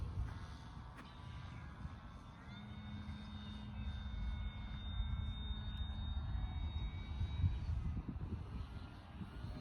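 A 3D-printed RC model plane flies at high throttle, and its electric motor gives a thin, steady, rising whine overhead. Wind buffets the microphone and the whine holds for several seconds before fading, with no speech over it.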